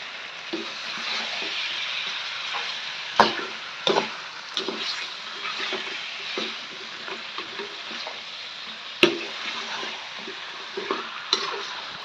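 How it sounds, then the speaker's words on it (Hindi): Potatoes stirred into spices in a pan for a potato bhaji, a continuous sizzle with repeated scraping and knocking of the spoon against the pan, some sharp clacks standing out, no voices. "तमाम पोटैटो को अच्छे से मसाले में मिक्स कर दें"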